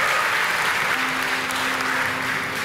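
Steady applause from an Indonesian literature event audience, honouring students at a ministry of education programme on bringing literature into the school curriculum; dense continuous clapping throughout, with a faint sustained tone partway through.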